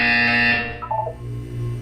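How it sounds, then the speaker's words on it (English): A buzzer sounds in the Portal 2 video game, a short bright electronic tone that cuts off after about half a second. Low background hum and a few soft tonal blips follow. "You will hear a buzzer."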